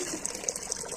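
Water gushes steadily from a household tap filling a container, a soft continuous rushing with no voices.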